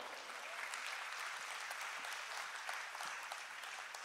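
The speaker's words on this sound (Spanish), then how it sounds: "Denle un aplauso al Señor." A church congregation applauds at a Spanish-language service, a dense, steady wash of many hands clapping together, fairly faint and even throughout, with no voices rising above it.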